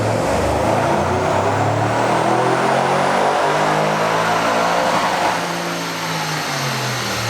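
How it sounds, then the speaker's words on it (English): An Audi RS6 with a stage 2 tune runs hard on a dyno, a loud sustained engine roar with a slowly rising pitch that eases slightly toward the end. "They're running a stage 2 RS6 on the dyno over there"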